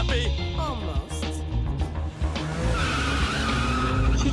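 Car speeding away with tires skidding and squealing in the animated series Archer, a loud sustained screech and engine roar under a busy music and effects mix.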